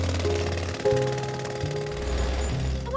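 A cartoon jackhammer from Bob the Builder, operated by Leo, pounds loudly and continuously for a few seconds, its rapid hammering running steady with a shift in pitch partway through and mechanical tones over it.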